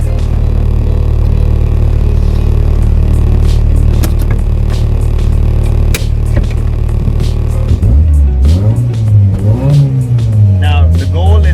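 A car with a stock 4AGE engine idles steadily, then launches and accelerates hard, its revs climbing loudly and rising in pitch through the gear, close to the listener.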